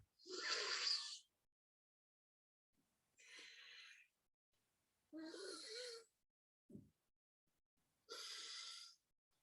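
Anulom Vilom alternate-nostril breathing: four long, forceful nasal breaths, each lasting about a second, are separated by silent pauses, with one short sniff between them; all are close and clear.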